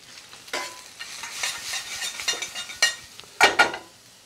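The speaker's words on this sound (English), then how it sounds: "Mushrooms always seem to soak in oil. So we're going to just fry these off a little bit." Mushrooms frying in oil for a restaurant-style mushroom bhajee, a soft sizzle broken by scraping stirs and clinks of a utensil against the pan, close and without talk.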